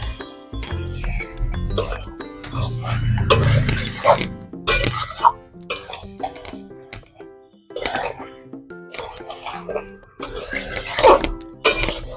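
Duck pieces seasoned with salt and turmeric are stirred and scraped in a pan, giving repeated clanks and scrapes of utensil against metal over a low cooking rumble, fairly close and fairly loud throughout.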